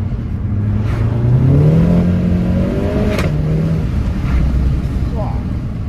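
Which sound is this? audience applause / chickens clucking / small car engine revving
small car engine revving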